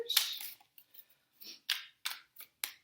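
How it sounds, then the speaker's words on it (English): Cards are riffled and shuffled in several short, crisp bursts, close to the ear, with brief quiet gaps between each shuffle. "I'm going to shuffle your tarot cards to start with"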